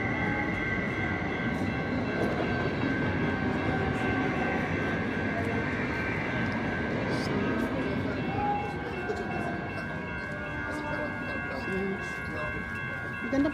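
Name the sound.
train in downtown San Mateo, California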